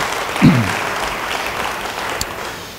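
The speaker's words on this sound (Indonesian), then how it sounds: "Beri tepuk tangan bagi dia." A church congregation applauds during a sermon, a burst of clapping that swells briefly near the start and then settles into steady, softer applause.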